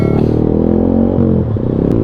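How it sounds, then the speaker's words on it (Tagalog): Yamaha Sniper 155 underbone motorcycle with a Cardinals GP-type full exhaust and racing ECU tune gives a loud, steady exhaust drone close by, with a pitch shift partway through as the revs change; no talk. "Grabe yung tunog ng GP type, full exhaust ng Cardinals."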